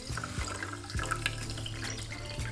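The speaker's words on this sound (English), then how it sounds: "finally you're gonna add in the soda water" Chilled soda water pours steadily into a glass, a continuous close fizzing, splashing stream with a few faint clinks, no voices.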